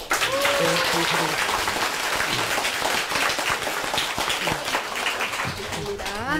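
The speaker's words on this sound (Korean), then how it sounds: "박수 부탁드립니다" Gathered audience at a Korean meeting applauding, a continuous busy patter of many hands throughout, with voices talking over it.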